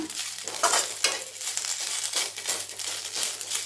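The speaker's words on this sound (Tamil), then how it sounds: "ஃப்ளேமை கம்மி பண்ணி வச்சுட்டு நல்லா சுருளை வறுத்துக்கோங்க" Food fries in a pan over a low flame with soft, uneven sizzling and bursts of scraping and stirring close by.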